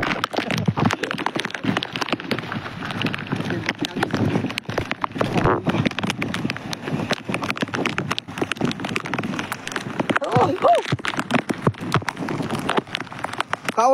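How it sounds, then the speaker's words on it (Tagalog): Heavy rain patters densely and continuously on a nearby surface, loud sharp drops throughout with no pause. "Oh, malakas na yung ulan mga idol."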